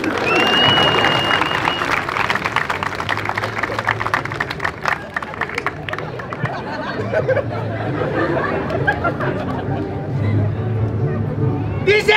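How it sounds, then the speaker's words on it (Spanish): Audience at a comedy show applauding a woman, sustained clapping mixed with crowd chatter and laughter-like murmur, fading slightly toward the end while voices continue over it. "Un aplauso a la señora."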